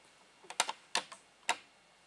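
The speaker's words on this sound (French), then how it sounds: "Et je vais tricoter donc mes mailles à l'envers, sur l'envers." Knitting needles click in a few sharp, irregular taps while purl stitches are worked on the wrong side of a baby's knitted overall, close and fairly quiet with no talking.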